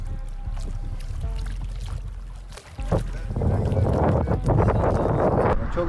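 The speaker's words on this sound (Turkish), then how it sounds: "Çok aşırı rüzgar var." Strong gusting wind buffeting the microphone outdoors on a fishing trip, a rough low roar that rises and thickens in the second half, with brief voices underneath.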